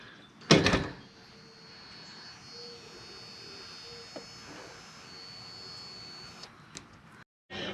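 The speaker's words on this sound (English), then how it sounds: "do you want me to close the door?" An RV entry door on a 2016 Winnebago View swings shut with a single loud, sharp slam near the start, followed by a low steady hum and faint clicks.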